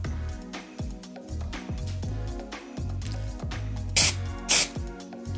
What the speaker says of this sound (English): hold the can about 6 inches or so away from my head and begin spraying